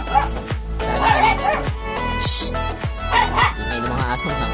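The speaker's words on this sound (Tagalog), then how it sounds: "Ingay ng mga aso na kalapatin." Dogs bark in a loud, repeated run of sharp yaps and bow-wows close by, with laughter and voices mixed in around them.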